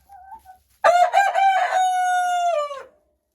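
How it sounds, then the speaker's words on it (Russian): A rooster, a cross of a Marans and a crested hen, lets out one long, loud crow close by after a faint short call, with no talk over it. "Два петушка."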